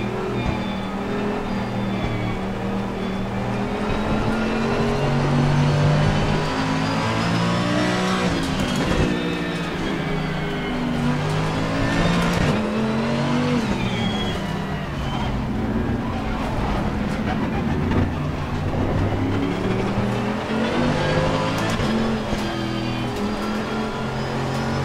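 A GT race car runs on the wet Barcelona Catalunya circuit, its engine roaring loud and close with shifting pitch through corners and throttle changes, steady and continuous throughout.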